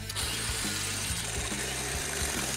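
Saw or grinder cutting through a metal church tank, a steady loud grinding drone with a low pulsing hum that rises and dips every half second or so, running continuously throughout.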